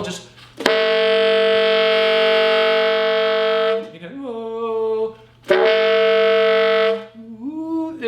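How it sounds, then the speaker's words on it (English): Saxophone multiphonics: two long, loud, buzzy chords of several simultaneous pitches, each ending in a wavering, bending tail, with a brief spoken word between them. "like you're hearing multiple tones at the same time."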